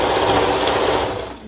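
A serger runs continuously, stitching and trimming the arm piece seam of a peplum top, its steady high whir loud and close with no talking, easing off slightly at the end.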